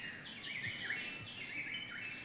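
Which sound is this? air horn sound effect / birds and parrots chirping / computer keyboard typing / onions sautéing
birds and parrots chirping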